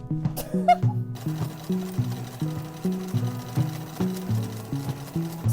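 A Bernina sewing machine stay stitching a shirt, running in a fast, steady mechanical rhythm of repeated stitch bursts, close and clear, with a brief click near the start.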